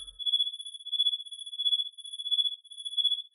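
Synthesized cricket chirping built in VCV Rack from free modules: a steady pure electronic tone pulses in a rapid, regular chirping rhythm, clean and alone, with a faint higher harmonic above it.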